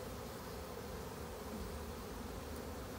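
Honey bees buzz steadily at an open hive during honey harvesting at a home apiary, a dense continuous drone filling the whole stretch with no voices.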